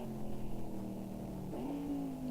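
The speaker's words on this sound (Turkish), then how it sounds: "Arabam gitti ya, hala gaza basıyor ya la bu." A car engine in the racing game Next Car Game drones loudly and steadily, then revs up to a higher pitch partway through and holds there. No talking.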